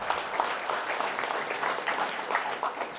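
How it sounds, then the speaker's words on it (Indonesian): An audience claps together at a gathering, a steady, moderately loud patter of many hands lasting a few seconds with no talk over it. "Oke, tepuk tangan untuk semuanya."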